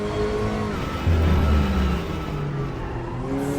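A race car cornering in a racing video game, its engine droning steadily and close, with a lower rumble swelling briefly in the middle and pitch shifts as it moves through the turn.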